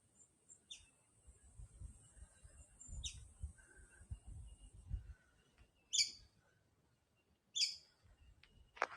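Sharp, high bird calls sound at intervals, about four distinct chirps, over a quiet natural background with faint low rumble.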